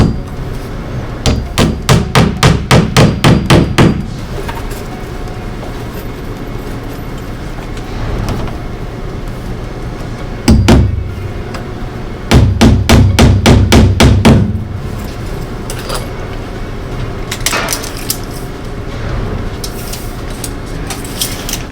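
A hammer nails vinyl siding with loud, sharp, rapid strikes. They come in rhythmic bursts of about a dozen blows each, with a few scattered single hits between the bursts.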